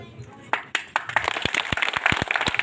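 Audience clapping swells from scattered claps into sustained applause at a Karnataka Rajya Raitha Sangha farmers' gathering in Chikkati village, honouring the late leader K. S. Nagarathnamma, with a few sharp individual claps standing out near the front.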